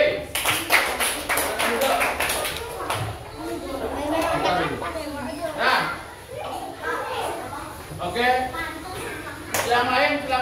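Classmates clap for student group B in a classroom, a short burst of claps at the start followed by children's chatter and voices, with scattered claps returning near the end.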